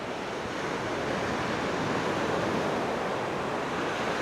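Ocean surf at a beach in Barangay Bongbong, Pantukan, Davao de Oro, heard as a steady, loud wash of breaking waves mixed with wind buffeting the microphone, with no pause throughout.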